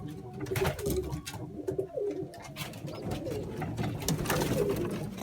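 Pigeons or doves in a coop cooing continuously, several birds close by, with soft rustling and fluttering underneath and no talking.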